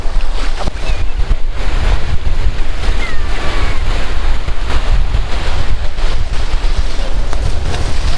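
Sea waves at Shankarpur beach crash and roar continuously and loudly, with heavy wind buffeting the microphone throughout.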